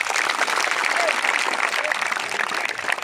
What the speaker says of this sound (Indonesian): Boleh tepuk tangan untuk Tuhan.